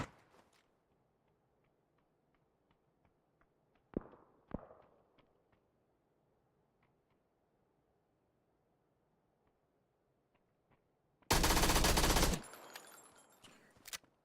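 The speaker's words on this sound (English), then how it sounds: "Decoy grenade." Decoy grenade in PUBG giving off fake gunfire, a sudden loud burst of rapid automatic shots about a second long, coming after near-silence broken by a few faint clicks and two sharp knocks.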